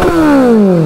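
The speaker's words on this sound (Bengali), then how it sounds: "এখানে দেখতে পাচ্ছ ভাইটা সাউন্ড করছে বাইকে" A Kawasaki Z900 motorcycle engine, close and loud, gives a single sharp rev whose pitch slides steadily downward as it winds off.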